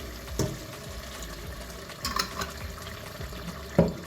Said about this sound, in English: I'm going to pour that in.